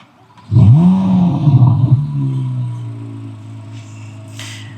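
A 2025 Chevrolet Corvette C8 Z06 3LZ convertible fires up with a sharp starter catch and loud rising rev, then settles into a deep, steady idle rumble, close by with no talking.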